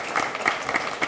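Applause at an outdoor city hall tree lighting celebration in Yonkers, a crowd clapping steadily in a brief, moderately loud burst with rhythmic peaks.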